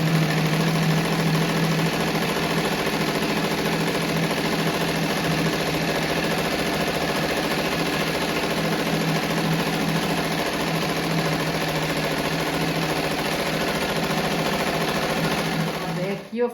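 A sewing machine stitches a seam on a rabbit-shaped rug, running as a steady, close, loud mechanical whir that continues without a break for the whole stretch and stops abruptly at the end.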